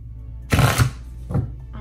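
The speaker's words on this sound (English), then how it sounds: "I just have to shuffle the cards again." Tarot cards riffle-shuffled by hand, two quick bursts of papery flutter, close and fairly loud against a quiet room.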